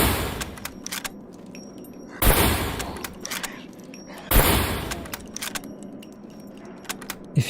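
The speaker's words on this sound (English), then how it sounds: "Don't run while it's reloading, otherwise you have to cock it manually like this." Manual weapon cocking and reload in the survival game SCUM: two loud, broadband mechanical clacks stand out over quieter metallic rattles and clicks, with no talking.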